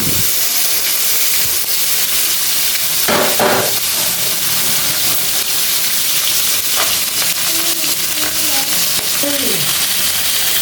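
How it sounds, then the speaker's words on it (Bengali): Large and small rohu (katla) fish heads fry in hot oil with a loud, steady sizzle and hiss that fills the whole stretch, with occasional spatters and light utensil sounds over the top. "দেখো মাছের মাথাগুলো সুন্দর লাল লাল করে ভেজে হয়ে গেছে"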